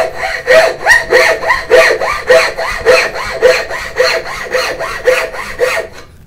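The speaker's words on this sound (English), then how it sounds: "With the hacksaw, I'm going to do the exact same thing." A hacksaw cuts dovetail joints in wood with steady, rhythmic back-and-forth strokes, about two per second, close and loud with no talking.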